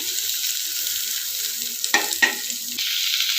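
Onion fries in oil with urad dal and red chillies for tomato chutney, a continuous bright sizzle broken by two short bursts of louder crackling as the pan is stirred, with no voices.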